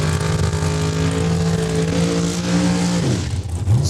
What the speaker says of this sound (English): that's Taylor Fiesel warming up the back wheels of that dragster